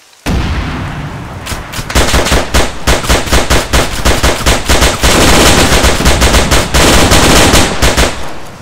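Arma 3 battle gunfire: loud, close bursts of rapid automatic weapon fire, sustained and rattling for several seconds with short gaps between volleys.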